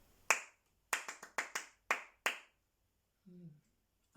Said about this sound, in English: when I clap a rhythm, you should be able to tell which rhythm it is I clapped